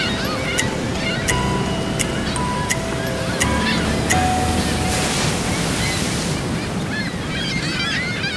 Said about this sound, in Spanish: El océano está justo afuera de la puerta.